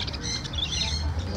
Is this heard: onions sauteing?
no